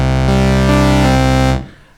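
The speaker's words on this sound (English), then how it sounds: "This is a saw wave, sounds like this." Raw saw wave from a Novation Peak synthesizer on an initialized blank patch, a single bright sustained buzzy tone held steadily for about a second and a half, then cut off.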